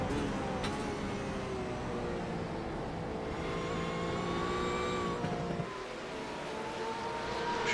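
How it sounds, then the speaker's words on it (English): A GT3 race car engine roars from onboard in a racing video game at Spa-Francorchamps, holding a loud, steady high-pitched note with rising revs and a brief dip near the end before it climbs again. "a slightly older entry in terms of the recency of these GT3 cars being added to the service, but certainly still sounds good"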